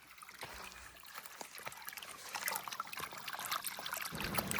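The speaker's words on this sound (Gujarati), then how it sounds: "ધોરિયો થઈ ગયો છે ને હવે મોટર ચાલુ કરી દીધી આપણે. જો પાણી જાય છે" Water from a motor pump runs along an earthen irrigation channel on a farm in the Gir area, a faint, continuous trickling and gurgling that grows slightly louder, with no talk.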